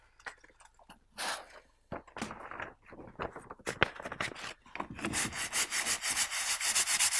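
Scratching through layers of paint down to blue paint beneath, a series of dry rubbing and scraping strokes, uneven at first then settling into quick repeated scrapes that grow louder and steadier toward the end, with no talk.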